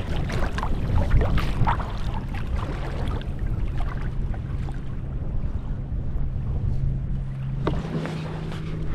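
A kayak is paddled across a calm sea in the early morning, with soft irregular water splashes and light wind noise close to the microphone and no voices.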